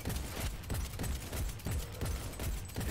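Rapid bursts of gunfire from a gun in the video game Cyberpunk 2077, loud and close, with repeated sharp shots in a steady rhythm over a dense action backdrop.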